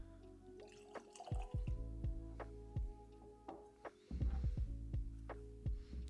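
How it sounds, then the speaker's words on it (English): Water trickling and dripping into a glass of Glenlivet 14-year-old cognac-cask-finished Scotch whisky, a run of small close splashes and drops over a faint steady hum. "add a bit of water, see what changes up"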